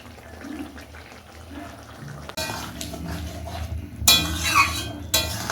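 Shukto with milk stirred in a pot, a spoon scraping and clanking against the metal, quiet at first, then louder with sharp sizzling bursts near the end.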